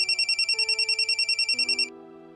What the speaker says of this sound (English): My mobile phone rang loudly.